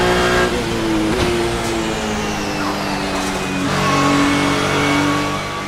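Honda race car in the racing game Assetto Corsa, its engine revving loud and close for the whole stretch, pitch rising and falling through gear changes as the car accelerates on track.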